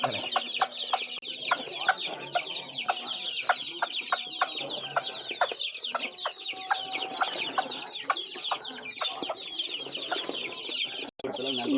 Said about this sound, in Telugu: ఇవన్నీ పెరువియన్, అలాగే భీమవరపు జాతికి సంబంధించిన కోళ్ళు అండి.